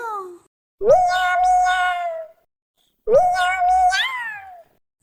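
Two long, drawn-out meows, each rising then falling, separated by a short pause; the voice sounds human-like, a person imitating a cat in a Tamil children's song.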